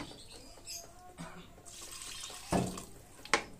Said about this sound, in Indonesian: ini air bekas bumbu ya, ngebersihin bumbunya